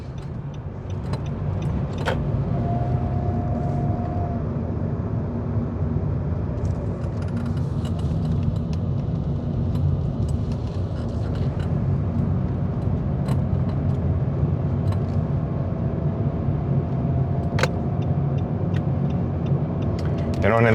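A Nissan Pulsar Acenta driving steadily with a continuous low engine and road rumble, a faint whine rising briefly, and occasional small rattles inside the cabin.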